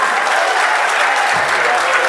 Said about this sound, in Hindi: वो भी ताली बजा रहे भाई साहब